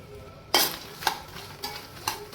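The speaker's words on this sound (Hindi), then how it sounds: "अब उसी 1 कटोरी से मैं मखाने डाले हैं। इनको भी अच्छी तरह से रोस्ट कर लेंगे।" Makhana (fox nuts) roast in a pan, a low sizzling hiss punctuated by four sharp scrapes and knocks of a spoon stirring them, close and without speech.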